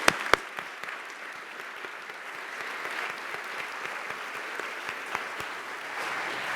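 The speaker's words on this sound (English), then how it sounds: "Please join me in a round of applause." An audience applauds steadily after a conference panel session, a sustained patter of many hands clapping at moderate volume with no talking.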